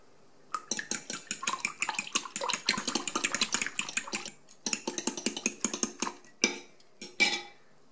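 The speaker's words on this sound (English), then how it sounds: "add the 3 eggs and the olive oil to the 400 grams of water and whisk that together with a fork" A fork whisks eggs, olive oil and water in a bowl, making rapid, rhythmic metal clicks against the dish. The bursts run in close, busy runs with a brief pause, then a few slower strokes at the end.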